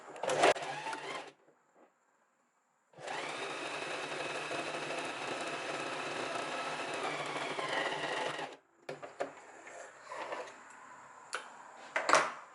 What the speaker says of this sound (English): I'm going to sew it with a 1 centimeter seam allowance away from the folded edge